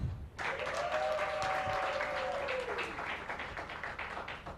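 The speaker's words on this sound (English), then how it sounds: "ladies and gentlemen, a round of applause for ACT." A crowd claps steadily for several seconds, moderately loud, with a brief whoop or whistle early on, fading slightly toward the end.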